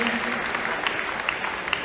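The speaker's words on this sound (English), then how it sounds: "So let's give a round of applause for Khadijah Rose." An audience claps for an award honoree at a basketball all-star game in Philadelphia, brief steady applause with a few sharp claps and a voice speaking over it.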